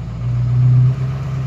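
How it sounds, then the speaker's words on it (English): A pickup truck engine labors uphill on a slippery road, a steady low drone that swells briefly and then eases, heard close with no talking. "See if I can make it up the hill without sliding."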